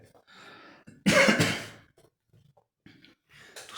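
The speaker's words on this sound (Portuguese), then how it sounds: "Tossindo muito, a garganta seca." A person coughs hard with a dry, irritated throat: a short cluster of loud, harsh coughs near the microphone, set between quieter breathy throat sounds.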